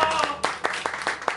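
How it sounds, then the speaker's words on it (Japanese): Scattered, sharp hand claps from a live audience at a tribute band show, a handful of distinct claps spaced irregularly rather than a dense ovation. "もう一度世界の拍手を。"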